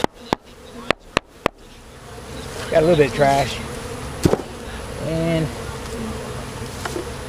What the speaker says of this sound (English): Let's get all the bees off